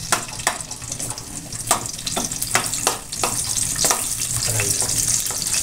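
Garlic fries in hot cooking oil with a continuous crackling sizzle, close and steady, broken by frequent sharp pops and spatters throughout.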